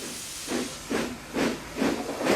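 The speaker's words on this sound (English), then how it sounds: "Thomas is a steam engine." A Thomas & Friends steam engine puffing along, heard as a regular series of five loud steam hisses, each a breathy chuff separated by short gaps, close and alone with no voices.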